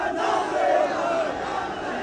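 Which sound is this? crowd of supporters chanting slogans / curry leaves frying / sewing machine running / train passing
crowd of supporters chanting slogans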